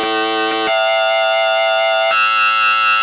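Bright wavetable 37 patch on a Studiologic Sledge synthesizer at 16-foot, a loud sustained buzzy tone with rich harmonics that shifts pitch twice, playing alone.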